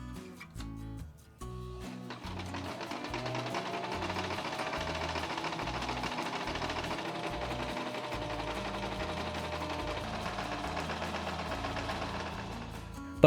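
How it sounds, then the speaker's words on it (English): A sewing machine stitching sail cloth for a model ship whirs steadily and continuously at close range, its rapid mechanical stitching rhythm running for several seconds after a brief start. "I love adding stitch details to the sails with my sewing machine."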